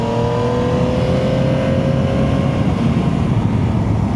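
Yamaha Tracer 9 GT+ touring motorcycle running in automatic shift mode, a loud steady engine drone with rising whine and heavy wind rumble while riding, no voice.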